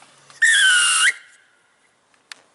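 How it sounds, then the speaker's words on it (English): A rugby referee blows one firm whistle blast lasting under a second, loud and clear, followed by near silence and a small tap. "already my whistle's done that for me. My tone's done that for me."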